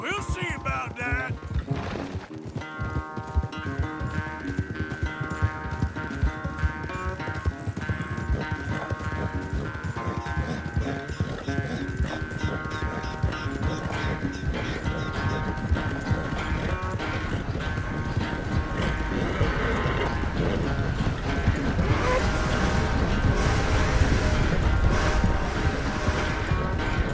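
Horse hooves clip-clop steadily through a gallop in the open-world western game Red Dead Redemption 2 during a race, laid over a continuous bed of music, with a faint rise in intensity toward the end.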